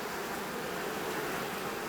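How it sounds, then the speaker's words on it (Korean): Honeybees swarm in a lush summer forest, their steady, even buzzing drone filling the air close by with no voices. "바로 꿀벌입니다."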